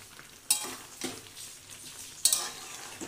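A spice masala with turmeric, for a palak chicken dish, is stirred and fried in a pan: a low sizzle under three sharp spatula scrapes, the strongest two about two seconds apart.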